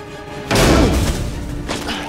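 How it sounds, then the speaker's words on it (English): A heavy layered impact hit for the racing game Need For Speed The Run lands hard after a short quiet lead-in, a deep booming thud with a crashing tail that decays, then a second softer swell near the end. "just kind of a big impact"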